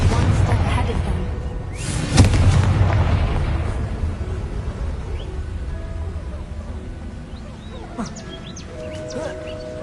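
A Confringo fire spell from the video game Hogwarts Legacy goes off as a loud explosive boom with a sharp crack near the start, then trails into a decaying rumble, with a voice casting the spell.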